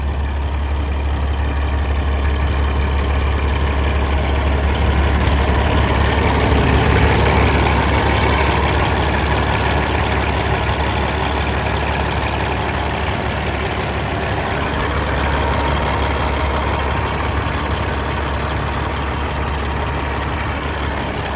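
A 2019 Peterbilt 389 glider truck with a Cat engine idles nearby in a deep, steady diesel rumble with light knocking, continuous and loud, without talk.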